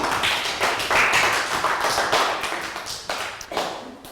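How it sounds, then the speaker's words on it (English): A primary-school class claps for a student after a math review on mass, a dense burst of many small hands close by, loud at first and thinning toward the end, with no talking over it. "Round of applause for Bangpon"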